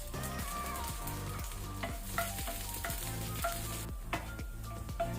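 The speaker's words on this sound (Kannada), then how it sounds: "ಎಣ್ಣೆ ಬಿಸಿಯಾದ ನಂತರ ನಾವು 5 ಎಸಳು ಗಾರ್ಲಿಕ್ ಬೆಳ್ಳುಳ್ಳಿ ಹಾಕೋಣ." Five garlic cloves fry in hot oil with curry leaves in a pan, crackling and sizzling continuously while a utensil stirs in regular scraping strokes, close and fairly quiet, with no talking.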